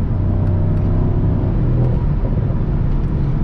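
A 585 hp Mercedes-AMG SL63 engine drones loudly and continuously on the Autobahn, with a low rumbling roar that swells slightly as it pulls, recorded from inside the car.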